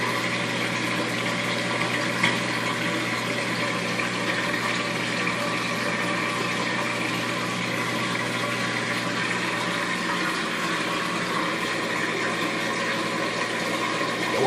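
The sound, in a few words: washing machine draining water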